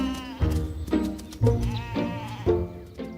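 Sheep at tupping season, rams meeting ewes in a forest farm setting, bleat repeatedly and close, with several distinct calls spaced about every half second to a second.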